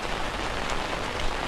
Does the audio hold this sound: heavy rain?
yes